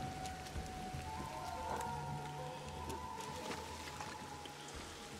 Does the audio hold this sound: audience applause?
no